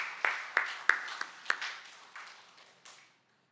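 A church congregation claps for a few seconds, with several sharp hand claps standing out over a softer wash of applause that fades away toward the end.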